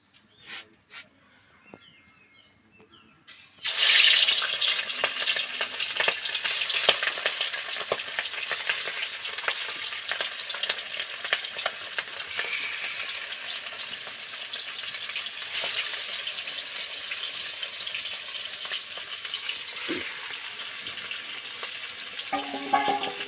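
Turmeric- and salt-rubbed fish sizzles loudly in hot oil, a steady broadband frying hiss with crackles that bursts in after a few seconds of quiet and continues alone.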